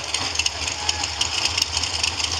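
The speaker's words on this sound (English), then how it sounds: "The Motor Mile Mustang coming up." A Ford Mustang drag car at the Mid Atlantic Challenge drag strip rumbles steadily near idle, its low engine drone loud and continuous under broad track noise.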